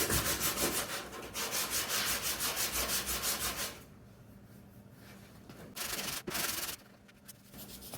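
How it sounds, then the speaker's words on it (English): Rhythmic back-and-forth strokes of sandpaper rasp against a Camaro fender being block sanded before 2K primer, quick and steady, then pause and resume in shorter bursts. "Time to take care of some block sanding."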